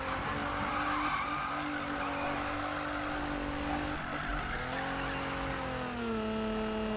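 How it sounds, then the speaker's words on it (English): A car drifts through a turn in the Need for Speed racing game, its tires skidding and squealing over a steady engine drone, loud and sustained across the whole stretch, without voices. "O, to ten drift mi się udał, no nie?"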